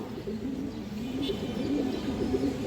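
Pigeons of Indian Benarasi and other fancy breeds coo softly and repeatedly at close range, low throaty calls over a quiet background.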